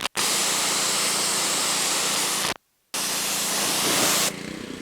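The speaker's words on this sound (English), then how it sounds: "Try to get this back sprayed off as I can." Broadband hiss of a pressure-washer spray rinsing soap off the back of a 1983 Chevrolet C10 truck, steady and close, cut by a brief pause near the middle before the spray resumes.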